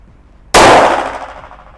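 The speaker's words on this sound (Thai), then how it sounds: "ยิงที่ระยะประมาณ 10หลานะครับ นะลองดู ผมชอบนะ ยิงไปที่ x นะครับกึ่งกลางเลย" A single sharp gunshot from a CZ P-10C pistol firing 135-grain lead round-nose ammunition at a target about 10 yards away on a range, loud and close, with a brief ringing decay.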